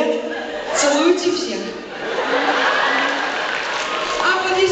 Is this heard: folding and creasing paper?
no